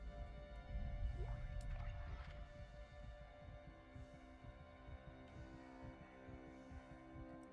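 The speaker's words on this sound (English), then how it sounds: "I hear your heartbeat." A slow, low heartbeat throbs in Dead Space (2023), a science-fiction horror game, soft rhythmic thumps under a steady mechanical hum and faint ambient tones.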